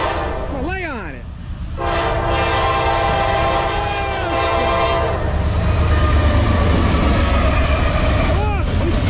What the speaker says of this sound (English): Come on, give me a horn show.